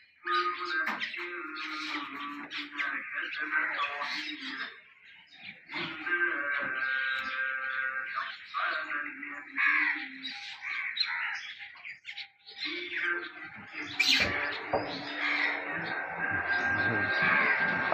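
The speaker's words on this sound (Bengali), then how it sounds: "প্রচুর পরিমাণ পাখি আছে, সব উপরে বসে আছে" Many birds perched up high chirp and call together in a dense, continuous chorus, loud and close, with short lulls between bursts of overlapping tweets.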